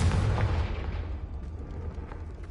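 A Confringo fire spell explodes in the Hogwarts Legacy video game with a single loud boom that quickly decays into a fading rumble and faint crackles.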